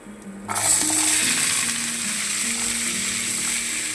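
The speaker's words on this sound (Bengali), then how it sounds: "সবজিটা কিছুটা ভাজা হয়ে যাবে" Washed cauliflower stems hit hot oil with five-spice seeds in a sudden loud sizzle that keeps crackling steadily at close range, with no talking over it.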